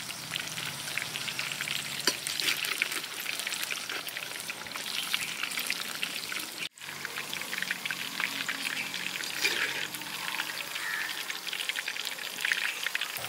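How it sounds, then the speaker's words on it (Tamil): Fish fries in ghee in a pan, giving a steady, close crackling sizzle with fine popping throughout and a brief dip partway as the pieces are turned, no voices present. "பரட்டி விட்டு நல்லா 2 பக்கம் நல்லா வேக வச்சுக்கோங்க."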